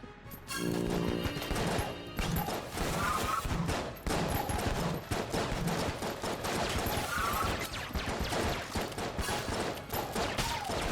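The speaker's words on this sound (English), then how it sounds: "I am just kind of going to town with this pulse cannon" Continuous rapid weapon fire from a pulse cannon in a modded Enter the Gungeon run, dense overlapping bursts with game effects and music, loud and sustained throughout.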